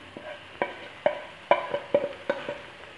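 A spoon scraping and stirring spices into sev tamatar sabzi in a pan, a series of about eight short, close taps and scrapes with a faint sizzle underneath.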